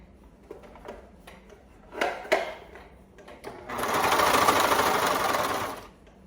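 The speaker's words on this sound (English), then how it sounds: "adjusting it so that it will keep going in a circle through our cover stitch machine" A cover stitch sewing machine hems leggings fabric, starting with a few handling clicks and knocks before a steady whirring stitch run of about two seconds, loud and close.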